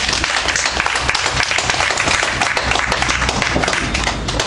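A church congregation in Abidjan bursts into sustained, dense applause, many hands clapping together at a fairly loud, even level for the whole stretch.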